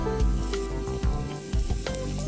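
Food sizzles and spits while frying in a pan, a close, steady crackle with a few clinks and stirring noises and no talking.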